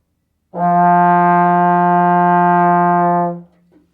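Blown with warm air and a dropped jaw, a trombone sustains a single long note of about three seconds, full and warm in tone, solo and close-miked, ending with a soft release.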